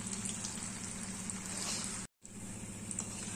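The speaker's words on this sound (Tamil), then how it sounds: "அதுக்கப்புறமா மீடியமும் லோலையும் மாற்றி மாற்றி வச்சு பொறிங்க" Cauliflower 65 deep-frying in hot oil gives a steady, dense bubbling sizzle with a faint low hum, broken by one brief dropout before the frying noise resumes, with no talk.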